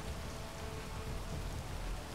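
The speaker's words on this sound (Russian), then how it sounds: "Дождь это еще." Steady, dense rain hisses without pause in the video game Space Engineers, a continuous wash of drops with no voices over it.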